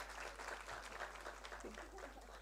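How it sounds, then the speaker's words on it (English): Applause from an event audience at a Women's Day gathering, a steady patter of clapping heard quietly at a distance for a couple of seconds. "give her a huge round of applause"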